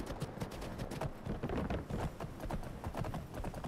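Rapid clip-clop of horse hooves at a steady gallop in the video game Skyrim, continuous and fairly close, with no talking.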